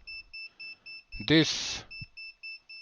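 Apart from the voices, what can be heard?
UNI-T UT60S multimeter beeping near voltage range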